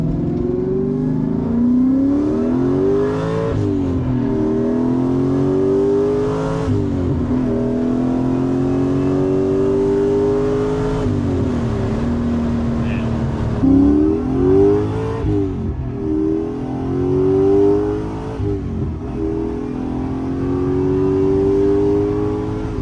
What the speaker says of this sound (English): I love the way these LT5s sound. Yeah, they rev out nice